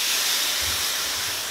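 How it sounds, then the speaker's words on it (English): Steam hisses from a wet napkin pressed onto a hot bending iron used to shape an acoustic guitar's wood, a steady close broadband hiss with a low rumble joining partway through. "Steam is very hot."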